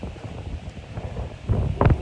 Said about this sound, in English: We know it's kind of windy, so I hope the sound is still coming through okay.